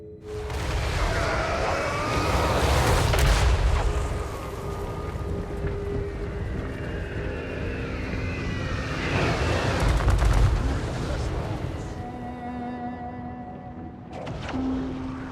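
Rocket fire on a Total War: Warhammer 3 battlefield, deep whooshing launches and booms rising and falling in waves, with wind-like battle roar and a final burst near the end, no voices.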